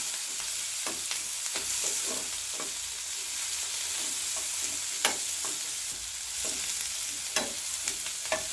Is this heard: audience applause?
no